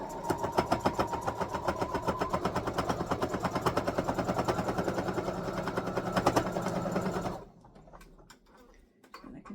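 A sewing machine stitches steadily along a curved fabric seam, its fast rhythmic ticking and motor whir running for about seven seconds before stopping, then a few quiet handling sounds.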